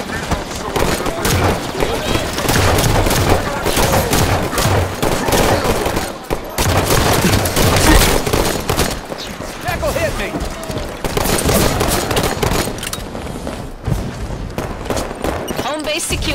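Dense gunfire in a Halo 5: Guardians firefight, rapid automatic bursts and overlapping shots rattling almost nonstop at close range, with game voices calling out amid the shooting.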